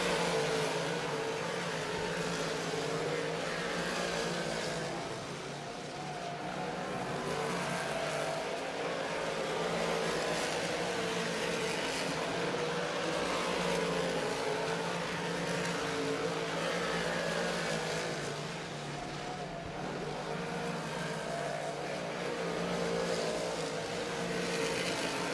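358 Modified race cars run at Cornwall Motor Speedway, a steady blended engine drone from the pack swelling and easing as cars pass, heard from a distance and fairly faint.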